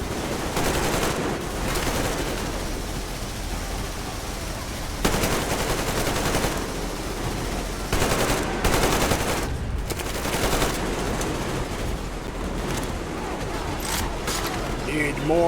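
Automatic weapons fire in Metro Exodus during a frantic firefight, rapid bursts and overlapping shots crackling almost nonstop at close range, with a few sharper, louder volleys breaking through the din.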